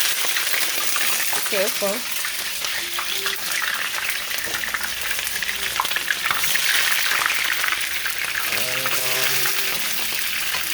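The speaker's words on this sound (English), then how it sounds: "So I put some oil to heat, and I'm going to first I put my seasoning, my onion and stuff in here." Onion and seasoning fry in hot oil in a pot for a Jamaican ackee and saltfish dish, giving a steady crackling sizzle with occasional stirring, while a voice speaks briefly over it.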